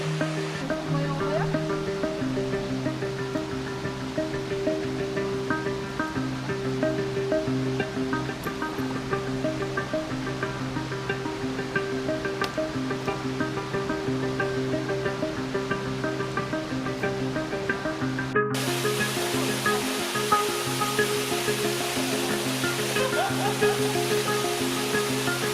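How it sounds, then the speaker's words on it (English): The waterfall at The Punchbowls roars with a continuous broadband rush of falling water, steady and fairly close, with faint voices now and then. "Down here at that waterfall."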